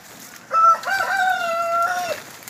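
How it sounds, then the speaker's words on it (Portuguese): A rooster crows one long, loud, drawn-out call close by on a farm in an agroforestry setting, with faint background clucking and ambient noise. "Tem uma galinha lá, ó, botando"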